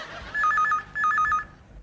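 A telephone rings in two short electronic trilling bursts separated by a brief pause, clear and close with no talk over it.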